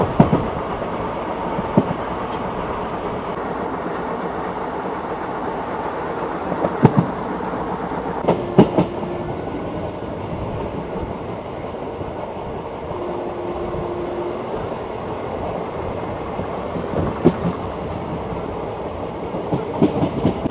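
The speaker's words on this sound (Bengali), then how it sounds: "আমাদের ট্রেন এখন পম্বন স্টেশন পার করলো, এবার শুরু হবে পাম্বন ব্রিজ।" A train runs from Pamban station onto the new Pamban rail bridge, a steady, continuous rolling rumble with occasional wheel clacks and knocks, heard from on board and without voices.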